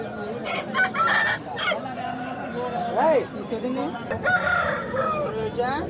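At a crowded rural chicken market, a rooster lets out a clear crow over clucking birds, with bargaining voices and general crowd babble running underneath.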